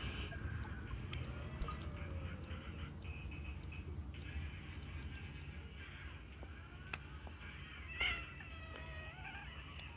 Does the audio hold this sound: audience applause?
no